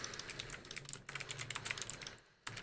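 Rapid, steady typing on a computer keyboard as a SQL query is entered, close and clear, with one brief pause before the keystrokes resume.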